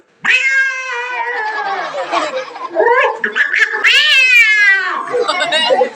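A voice imitates a cat with drawn-out, wavering meows, several in a row, close and loud.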